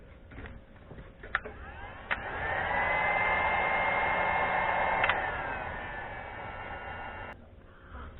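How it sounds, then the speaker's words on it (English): A heat gun blows a steady whooshing hiss while shrinking heat shrink tubing on a receiver antenna. Brief clicks come before it, and the airflow holds for several seconds before easing off. "And I'll heat shrink the bottom."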